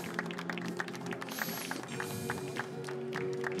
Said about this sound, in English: So who are they applauding?